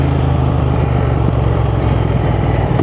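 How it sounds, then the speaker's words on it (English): A Triumph Thruxton 1200 twin's engine runs loud and close, a steady throaty drone with a slight lift midway that fits a quick throttle blip, no voices. "Just give it a quick blip"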